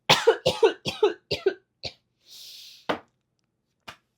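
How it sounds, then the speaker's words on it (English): A single person's cough in a quiet room, a short cluster of sharp bursts followed by a few isolated, fainter coughs and a breathy exhale, close and with no talking. "I got a cough."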